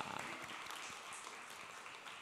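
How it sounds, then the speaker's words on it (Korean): Church congregation applauding in encouragement, a soft, steady patter of many hands clapping together, fairly distant and low in level, continuing evenly without a break. "우리 이선희 성도님 건강을 위해서 계속 격려의 박수 한번 보내주시면 좋겠습니다"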